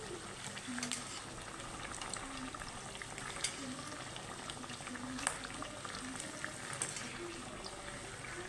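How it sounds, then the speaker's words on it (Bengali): Bread pakora deep-frying in plenty of oil over high heat, a faint continuous bubbling fizz with small crackles throughout, no voices. "একদম হাই হিটে ভাজছি আপনারা আরও বেশি তেল দিয়েও ভাজতে পারেন"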